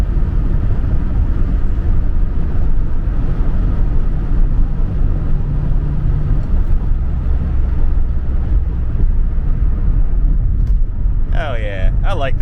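A 1986 Pontiac Fiero GT drives along, its engine giving a loud, steady low drone with road and wind rumble heard from inside the car.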